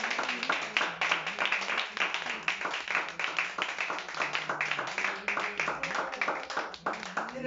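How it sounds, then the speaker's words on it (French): A church congregation claps in acclamation, a steady rhythmic beat of many hands repeating throughout, with voices and a sung or shouted tone riding over it. "Donc on va encore lui donner cette acclamation."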